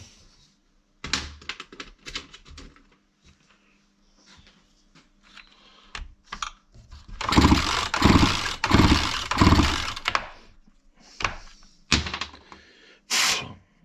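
A Chinese motor tiller that refuses to run is cranked with a replacement spark plug: sharp pull-start rattles and clicks, then a few seconds of loud, close sputtering engine noise before it dies, followed by more pulls.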